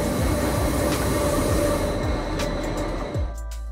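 A train rumbles steadily along a Swiss Alps railway, loud and close, with a continuous roar of wheels on track and faint squeals, easing off near the end.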